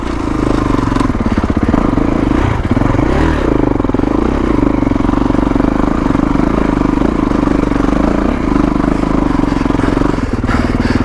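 A 2021 Kawasaki KX450X dirt bike climbs a trail in second gear, its engine lugging loud and close in a continuous throaty drone with slight rises in revs and some mechanical clatter.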